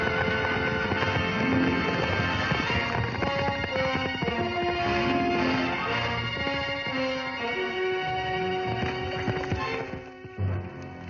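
Steady clip-clopping of horse hooves over a dense, continuous musical backdrop, the hoofbeats fairly close and even in rhythm.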